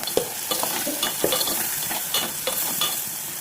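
Cashew and quail curry with chili powder and ginger paste being stirred in a sizzling pan, with a continuous bright hiss and repeated scraping strokes of a spoon.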